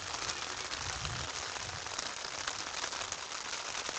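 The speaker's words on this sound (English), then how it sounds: "this is the hardest it's rained since we went to the break right now" Heavy rain pours steadily throughout during a high school baseball game between Vinton County and Nelsonville-York, a dense, even hiss with a low rumble underneath and no voices.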